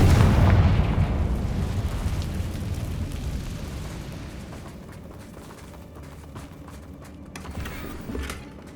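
A Confringo blasting spell explodes in Hogwarts Legacy, a heavy booming blast at the start that rumbles and decays over several seconds, followed by a smaller late burst and fading debris.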